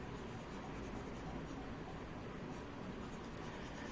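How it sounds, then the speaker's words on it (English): A pencil eraser rubs back and forth across a paper test page, a faint, continuous dry scrubbing that runs unbroken throughout. "let me erase this quickly"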